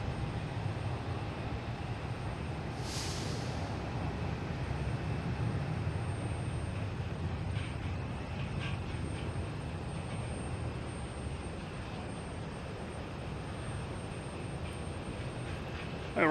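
An American Airlines airliner at Boston Logan Airport produces a faint, distant, continuous jet rumble that lingers evenly across the whole stretch.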